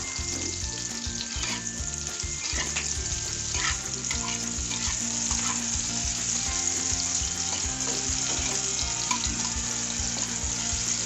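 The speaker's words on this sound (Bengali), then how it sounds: "মাশরুমগুলো দিয়ে মাশরুমগুলো খুব হালকা ভেজে নেবো, বেশি ভাজবো না" Mushrooms fry lightly in oil in a pan with a close, steady sizzle and a busy crackle, mixed with stirring scrapes that keep a rough rhythm throughout, and no voices.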